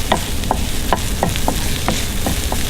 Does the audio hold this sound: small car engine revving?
no